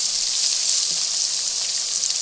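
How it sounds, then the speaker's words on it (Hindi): Garlic frying with onion in a pan for a Lahori chana dish, a steady bright sizzle close up, continuous and even with no voices. "इसमें अब ऐड करूँगी लहसुन, क्योंकि लहसुन जब तक फ्राई होता प्याज अच्छा अपना तब तक अच्छे से ब्राउन हो जाएगा"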